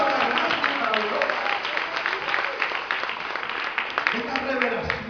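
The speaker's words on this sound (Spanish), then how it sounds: "dale un aplauso a Dios" A church congregation applauding during a sermon, a continuous wash of many hands clapping fairly close and loud, with a speaking voice carrying over the applause.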